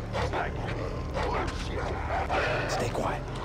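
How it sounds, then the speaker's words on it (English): Dogs barking and yipping in the jungle shooter Far Cry 3, repeated sharp barks over a dense, steady game soundscape with someone talking over them. "Stupid dogs. What is that going off about?"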